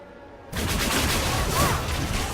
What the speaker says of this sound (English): we have to attack that guy with Energy Barrage